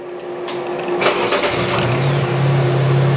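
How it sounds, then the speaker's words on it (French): A GM 1.4L car engine with stop-start cranks briefly and catches on a bench setup, then settles into a steady, loud close idle with a low hum underneath, no voices. "on démarre la voiture"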